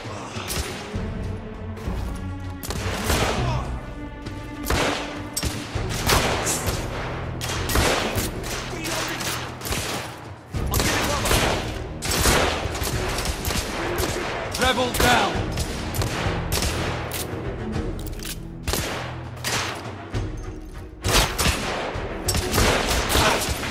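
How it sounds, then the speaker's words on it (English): Heavy gunfire in The Order: 1886 as a firefight rages, with dense bursts of shots and crashing impacts that continue loudly and almost without pause. "I'm taking heavy fire!"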